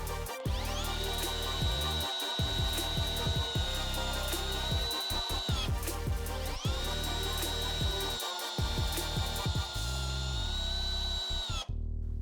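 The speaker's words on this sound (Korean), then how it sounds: "드라이버 모드는 13단, RPM은 2단에서 1단으로 변경을 해서 토크 값을 높여준 다음에 긴 육각 나사 체결해 보겠습니다" Festool TXS 18 cordless drill driver in low-speed, high-torque setting driving a long hex screw into wood: two sustained whining motor runs of about five seconds each, close and loud, with a short pause between.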